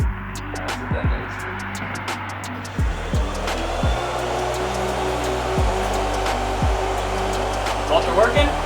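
Steady, loud whooshing roar of radiator cooling fans running on a turbocharged Honda Civic, with faint hum and some clicks mixed in.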